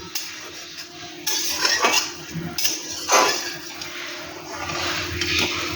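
A lid comes off a pot of egg bhujia curry with a couple of sharp metallic clanks and scrapes up close, followed by a low hiss of cooking, with no voices.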